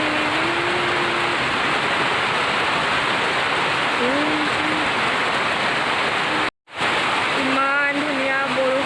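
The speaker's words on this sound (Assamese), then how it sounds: "ইমান ধুনীয়া বৰষুণ দিছে" Steady, dense rain falls over Tezpur town in a continuous close wash of hiss, briefly cutting out near the end, with faint tonal traces like distant voices or calls mixed in.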